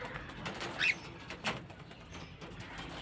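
Cockatiels kept in a home cage call with a few faint, brief chirps and soft coos over a quiet room background.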